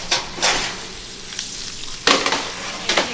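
Soft sizzling hiss of fish cooking inside a foil packet fresh from the oven, with a few crinkling, rustling bursts of the foil being handled close by.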